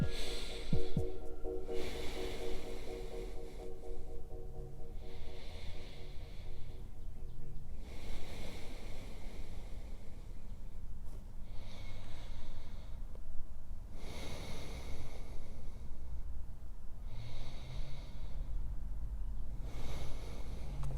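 Slow, deep breaths held in a yoga forward fold, about four long airy inhales and exhales in an even rhythm, close and breathy over a steady background hiss.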